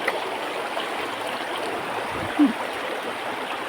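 A stream flows steadily near a spot where cattle come to drink, its water a low continuous rush with a single brief splash or gurgle partway through.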